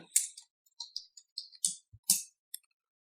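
Close computer keyboard typing in a quiet room: about ten crisp, separate key clicks in short irregular bursts with brief pauses between them, and no voices.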